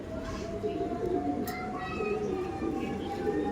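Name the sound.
male pigeon cooing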